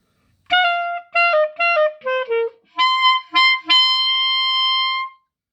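A clarinet plays the last verse of a song: a run of short tongued notes stepping downward, then three high altissimo Ds, the last held for about two seconds. The tone is clear, close and solo.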